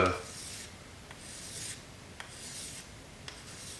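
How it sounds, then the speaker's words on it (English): Coarse-grit sandpaper rubs across a sterling silver cuff bracelet in steady rasping strokes, close and fairly quiet, with a few sharper scrapes breaking the even rhythm. "this first sand over it is a little coarser grit"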